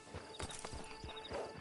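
Horse hooves clip-clopping in Red Dead Redemption 2, a steady run of close, fairly loud thuds at an easy pace, with no voices over them.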